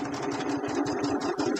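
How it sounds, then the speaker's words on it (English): A pedal-operated sewing machine runs steadily at close range, its needle chattering in a fast, even rhythm throughout with no talk over it. "I'm sewing one-handed because I'm standing on one foot and pedaling with the other"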